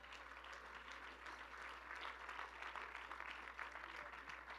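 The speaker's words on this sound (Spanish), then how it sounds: "Dele un aplauso al Señor." A church congregation applauds in a steady wash of many hands, faint and distant beneath a constant low hum, holding evenly for several seconds.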